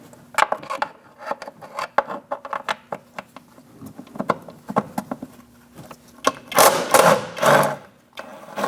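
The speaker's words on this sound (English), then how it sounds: "Now we're going to remove our nuts on the top here." Top strut nuts on a 2000-2006 Mini Cooper are loosened, making close ratcheting clicks and metallic ticks in irregular runs, with louder rattling and clanking toward the end.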